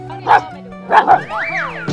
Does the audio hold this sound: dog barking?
yes